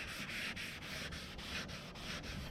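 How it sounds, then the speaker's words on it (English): Rhythmic wet sanding strokes rub across primer on an old Chevy pickup body, about eight even back-and-forth passes close by, alone without talk. "Wet sanding to remove the guide coat."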